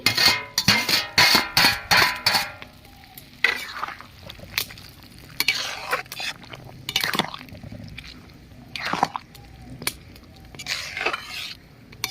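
Chicken pieces go into a pot for homemade chicken soup and fry, with a run of quick stirring scrapes at first, then intermittent sizzling and clinks of a spoon against the pot.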